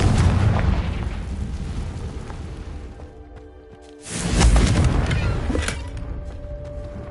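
Confringo spell blast in the Hogwarts Legacy video game: a booming burst with a whooshing tail, fading into a quieter lull before a second loud boom swells midway and slowly dies away.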